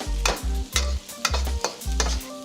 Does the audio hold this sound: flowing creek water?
no